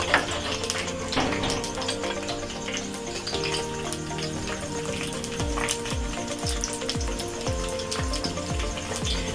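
Onions hit about 125 grams of hot oil in a small kadai, sizzling loudly and continuously at close range, with crackling bursts and some clatter.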